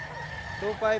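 Gamecock at a breeder's farm in Lipa, Batangas, giving short clucking calls, near and fairly loud, with a voice talking in the background.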